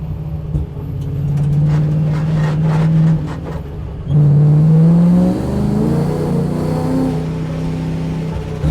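A drift car, either a C6 Corvette or a Mustang, is driven around a track with its engine droning and then revving up in pitch, falling back and rising again, loud and close throughout.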